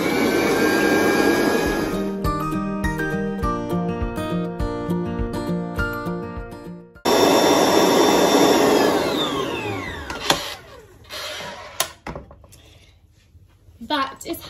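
An electric mixer whisks egg whites at high speed for meringues, a loud steady whirring drone with rattling against the bowl, briefly stopping midway and then resuming before tapering into scattered knocks.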